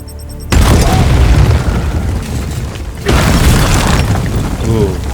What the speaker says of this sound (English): I did not know you could topple over statues